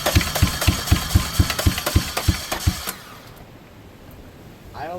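A damaged Toyota car engine runs with a rough, knocking idle for about three seconds, each uneven beat loud and close, then cuts out and leaves near silence.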